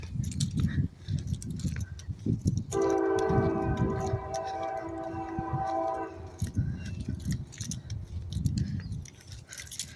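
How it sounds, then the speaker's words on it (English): A train passes through a residential neighbourhood of larger homes, its horn sounding a steady, loud multi-tone blast for about three seconds over rumbling wheel and traffic noise. "Yep, there's the train."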